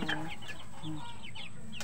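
Small young chickens cluck and chirp softly in short, scattered calls, close by, over a steady background hum.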